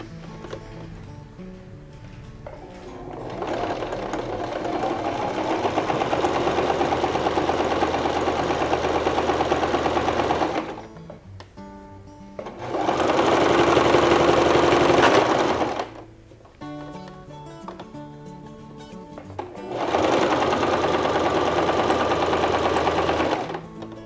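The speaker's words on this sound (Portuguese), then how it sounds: "Alfinetamos, que é para ficar nessa posição, e vamos passar na máquina." A sewing machine stitches a felt cushion in several bursts, close and steady whirring runs separated by short pauses, with a faster, louder run in the middle.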